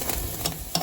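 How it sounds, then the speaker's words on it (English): A pot boiling over on a home stove while Southern chicken cooks gives a steady close hiss and sizzle with soft bubbling surges, heard alone. "And it's boiling over."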